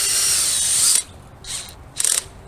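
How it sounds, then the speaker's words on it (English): A ratcheting screwdriver is worked while fitting an arbor for bronze muscadine grapes, one long rapid clicking burst followed by two shorter ratchet bursts, close and crisp. "Screwdriver."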